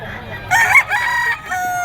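A rooster at a Bocaue pet market crows loudly and close by, one strained cock-a-doodle-doo call in the middle, with other fowl clucking and faint market noise around it.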